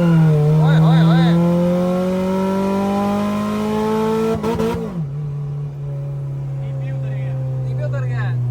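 A race car launches and accelerates hard, its engine note climbing steadily through a long loud pull, a quick shift around midway, then droning on, with voices talking over it.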